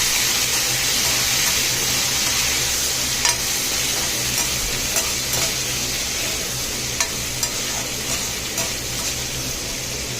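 Boiled white chickpeas stir-fry in a pan as their remaining water cooks off, giving a continuous moderate sizzle with scattered crackles and scraping stirs, no talking.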